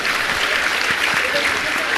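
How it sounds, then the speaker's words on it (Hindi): An audience at a religious discourse applauds in a dense, steady wash of clapping that continues throughout, with no voice heard over it. "एक बार तालियां बजा दो।"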